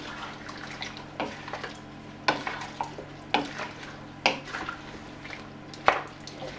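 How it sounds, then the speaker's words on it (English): A wooden spoon stirs a wet mix of cucumber chutney ingredients in vinegar, giving a series of soft squelching scrapes and sloshes at irregular intervals of roughly a second, close and moderately loud. "And with a wooden spoon, we'll mix it all together."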